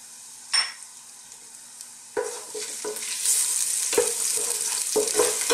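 Ginger and garlic drop into hot oil in a cooking pot for Filipino ginataang isda, a faint clink giving way to rising sizzle and stirring scrapes, close and building, with no speech.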